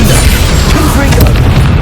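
A Confringo blasting spell bursts in Hogwarts Legacy, a loud sustained boom with crackling debris that fills the whole moment without any speech over it.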